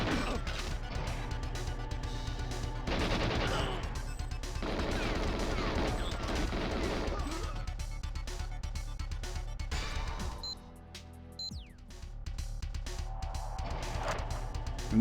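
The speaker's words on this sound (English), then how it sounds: "fun to think that I'm blowing up their missiles" Missiles blowing up in the N64 game GoldenEye 007, a dense run of loud blasts and crashing impacts over a steady game hum for most of the stretch, dropping briefly before the din resumes.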